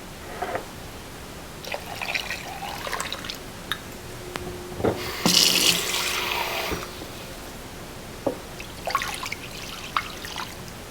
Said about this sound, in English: we need to cover it with water